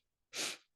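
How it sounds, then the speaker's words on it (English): During Kundalini yoga segmented breathing, a single quick, sharp nasal sniff is heard up close and quiet, with silence on either side. "we're breaking the inhalation into 3 sniffs."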